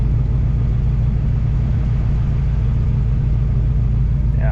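A 1979 Pontiac Trans Am 10th Anniversary idles steadily, a loud, close, continuous low rumble that holds even throughout with no revving.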